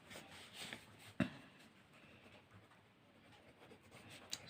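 Pen or chalk scratching out a mathematical equation in a geometry lesson: soft, faint, continuous scraping strokes with one sharper tap near the middle and another near the end, no voice present.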